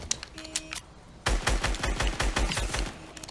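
Rapid automatic gunfire in Fortnite Chapter 2, a dense burst of loud sharp shots in quick succession dominating the second half, after a quieter stretch of distant single shots and game sounds.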